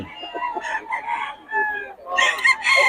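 A gamecock bull stag crows loudly and close, with repeated overlapping cock-a-doodle-doo calls that rise in strength toward the end and fill the whole stretch.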